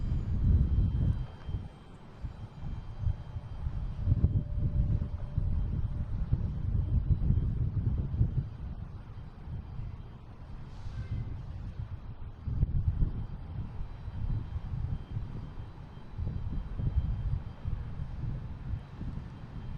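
A JetBlue Airbus A220 at Boston Logan International Airport gives a low rumbling drone that swells and eases, with wind buffeting the microphone.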